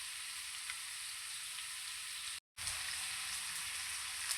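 Pan-fried egg going into a frying pan for chicken fried rice gives a steady, even sizzle throughout, broken by one brief silent gap, with no talking.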